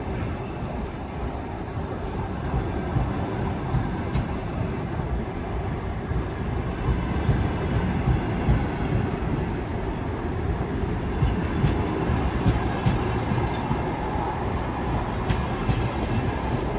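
A long passenger train rolls steadily past nearby, a continuous loud rumble of wheels and cars with faint high whines on top, ending with the mail car at the rear.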